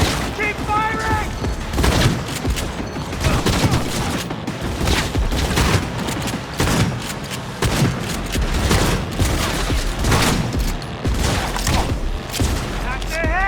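A Cyberpunk 2077 shootout brings dense, loud gunfire in repeated bursts and booming shots that keep going almost without pause, with voices shouting underneath the shooting.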